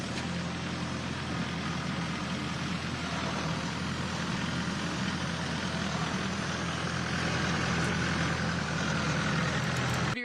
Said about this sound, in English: Let me just go on a quick tractor ride.